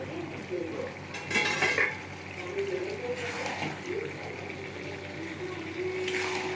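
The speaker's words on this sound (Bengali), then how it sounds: "এবার আমি ঢাকাটা খুলে দেখবো হয়ে গেছে কিনা।" A lid is lifted off a cooking pot of pui shak chorchori with fish head, making a brief metallic clatter, followed by close utensil clinks and soft stirring over a faint background hiss.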